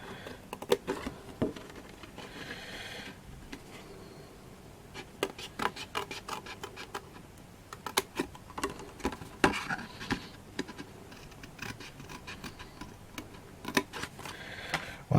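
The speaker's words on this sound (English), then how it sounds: "Now we come to cutting the doors open. So I'm just going to use my Fussy Cut scissors" Fussy Cut scissors snipping through card to cut open the doors on a handmade barn card, giving a quiet close run of irregular small clicks and snips with no talking.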